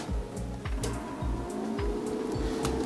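A semi-automatic MIG welding machine powers up with a steady mechanical hum and a rhythmic low thumping pulse repeating roughly every half second, close and fairly loud.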